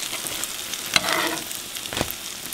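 French toast frying in a non-stick skillet, a steady close sizzle with a couple of sharper crackling bursts, alone with no talk.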